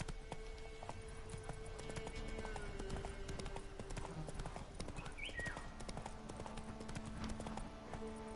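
The horse Roach gallops in the video game Witcher 3, its hooves beating a fast, steady clip-clop throughout over a faint game soundscape.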